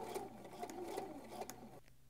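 A sewing machine stitches a sleeve lining, its motor whirring steadily and close with a rapid needle chatter for about two seconds before stopping abruptly.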